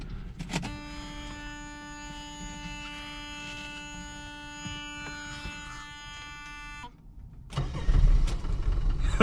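A Porsche 911 that has sat unused for three years is cranked with a fresh battery. A whining electric tone hums steadily and then stops, followed by a loud engine catch with a rumbling start at the end.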